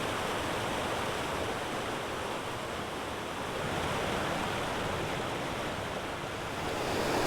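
A small North Carolina mountain stream stair-steps over rock ledges toward falls below, its broad, steady rushing wash filling the air continuously and close, with no voices.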